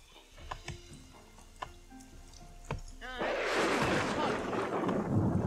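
Thunder breaks out during a storm in the Northgard video game, a rising broad rumble and hiss that swells after scattered ticking and clicking interface sounds.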